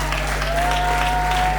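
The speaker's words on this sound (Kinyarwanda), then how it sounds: "Dukomera amashyi menshi umugeni wacu" A crowd at a wedding applauds the bride, a dense steady wash of clapping under a continuous low hum and a thin whistling tone, fairly loud throughout.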